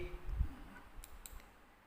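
A computer mouse clicks while someone works in PowerPoint, giving a couple of faint, sharp clicks close by against a quiet room, with no speech.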